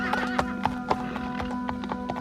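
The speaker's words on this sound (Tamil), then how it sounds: "குதிரை குளம்படியின் சத்தம்" Horse hoofbeats clip-clop in a steady, moderately loud rhythm near a riverbank in a Tamil historical tale, with a neigh and a low steady hum underneath.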